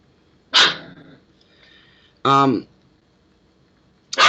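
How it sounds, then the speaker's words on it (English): A dog barks in short, separate bursts with gaps of quiet between them, close and fairly loud, indoors in a home with a cat nearby. "He's barking at the dog, at the cat."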